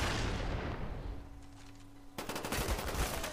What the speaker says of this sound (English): That was some bad shooting.